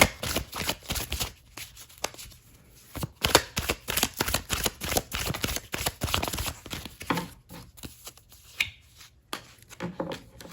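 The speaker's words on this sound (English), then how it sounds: "Let's pull some oracle cards here." A deck of oracle cards being shuffled and pulled by hand, irregular papery riffles, slides and taps close up, quiet, with no voice.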